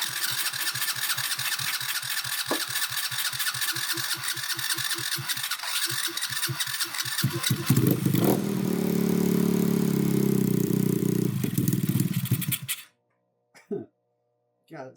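A trashed Honda Grom clone motorcycle engine cranks with a rapid rhythmic chugging, catches and roars loudly and unevenly for several seconds, then cuts out abruptly and sputters briefly near the end.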